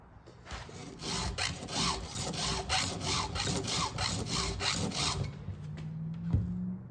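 A round file sharpens chainsaw chain teeth against an Oregon file guide, giving a steady series of about a dozen rhythmic rasping strokes, close and fairly loud, with no talking.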